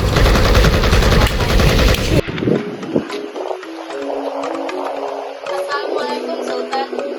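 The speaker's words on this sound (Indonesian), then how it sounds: "Tembakkan senjata kalian." Gunfire in a historical film about the Aceh war, starting as a dense loud volley of rapid shots that cuts off abruptly, followed by scattered fainter cracks and clatter.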